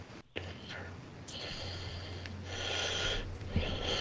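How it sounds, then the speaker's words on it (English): Heavy breathing picked up close on a microphone during a campfire talk, wheezy snorting breaths with a low hum, faint voices mixed in. "I'm hearing somebody breathing"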